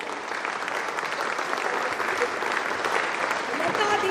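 Audience applause at a devotional music tribute concert, dense steady clapping sustained throughout, loud and close, with a voice faintly over it.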